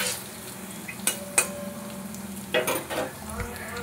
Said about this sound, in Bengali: পনিরগুলো আমি খুব হালকা করে ভেজে নিয়েছি, বেশি ভাজবো না